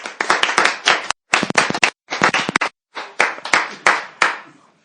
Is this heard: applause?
yes